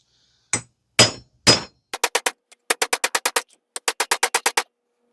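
A hammer strikes a socket to drive a Toyota wheel bearing hub out: three heavier blows, then quick runs of sharp metallic clangs in rhythmic bursts, close and loud with silence between.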